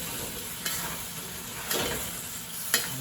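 Cauliflower and pork stir-fry in a dry pot with a steady sizzle, while three scraping stirs sweep through at intervals, close and clear with no talking.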